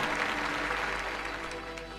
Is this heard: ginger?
no